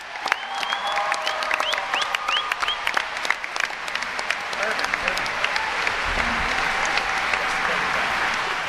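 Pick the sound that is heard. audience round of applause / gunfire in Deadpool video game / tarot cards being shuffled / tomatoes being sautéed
audience round of applause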